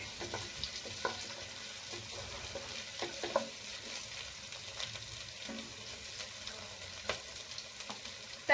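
Sliced capsicum being sautéed and softened in a pan for pasta, giving a steady soft sizzle with scattered stirring scrapes and light clicks throughout, no talking.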